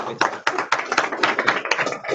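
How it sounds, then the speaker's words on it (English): A small training-class group claps for a new manager, a short, uneven patter of nearby hand claps with distinct individual smacks, quick and close, with some talking mixed in. "Round of applause"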